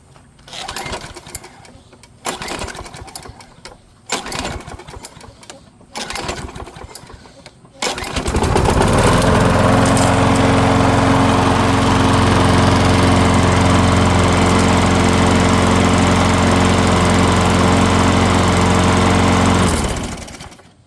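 Several sputtering pulls and short bursts, then an old lawn mower engine catches and runs loudly and steadily, a little slow, for about twelve seconds before cutting off.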